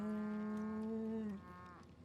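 A single long cow moo from The Outer Worlds, loud and drawn out, tapering off into faint background noise at the end.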